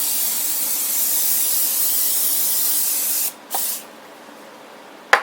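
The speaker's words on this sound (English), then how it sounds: "you're going to go ahead and spray it with some vegetable oil" Vegetable oil sprayed from an aerosol can over food in a baking dish, a steady close hiss lasting about three seconds, then a short second burst and a brief sharp spritz near the end.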